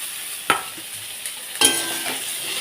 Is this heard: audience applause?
no